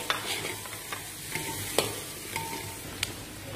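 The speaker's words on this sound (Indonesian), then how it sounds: "Kita tumiskan dia." Curry leaves and curry spice being sautéed in a pan, with a steady, moderate sizzle punctuated by a handful of sharp clicks and scrapes of a spatula against the pan, and no voices.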